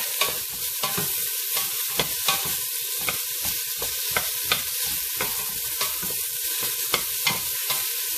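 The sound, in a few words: sautéing in virgin oil in a pan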